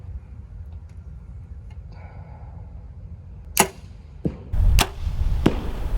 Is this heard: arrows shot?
yes